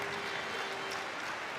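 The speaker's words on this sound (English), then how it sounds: "the home fans on their feet to applaud Rowe off the court" Home fans at a 2014 Leicester Riders versus Newcastle basketball game stand and applaud, giving a steady, dense wash of clapping from a large indoor crowd throughout.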